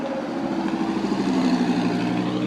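An engine revs at a Richmond Cars and Coffee meet, a steady loud growl whose pitch swells and climbs midway, holding close and continuous with no talk.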